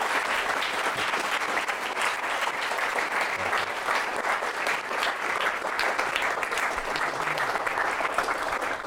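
Sustained applause from a lecture audience welcoming author Adam Grant to the stage, steady and dense throughout with no voices over it.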